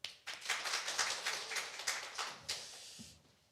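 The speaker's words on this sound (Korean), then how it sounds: "박수 한번 쳐주세요" A church congregation claps at a Sunday gospel service, a brief, fairly quiet burst of distinct hand claps in loose rhythm that thins out and fades near the end.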